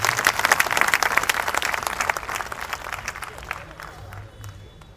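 A live poetry-recital audience breaks into loud, dense applause that swells through the first half, then gradually thins and fades toward the end.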